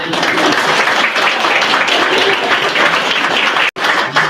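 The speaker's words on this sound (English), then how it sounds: "So a round of applause for Anna, ladies and gentlemen." Wedding guests give Anna a round of applause, a loud continuous wash of many hands clapping that runs for about four seconds before cutting off abruptly.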